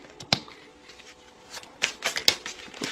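Tarot cards shuffled in the hands, a soft papery riffle with several sharper slaps and flicks, close and fairly quiet, with no talking.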